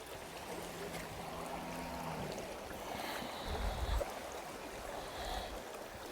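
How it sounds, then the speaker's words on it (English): Steady, soft rush of a stream flowing close by, with a low rumble partway through and no voices. "Can you listen to the sound of this water?"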